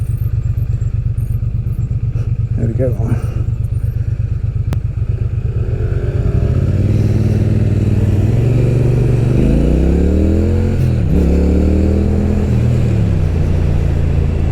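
A Triumph Speed Twin motorcycle rides through traffic, its engine a loud, steady close-up drone with shifting pitch as it accelerates and eases off while filtering, with wind rumble and a rider briefly speaking.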